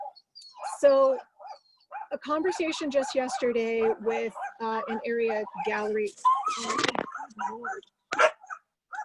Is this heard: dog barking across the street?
yes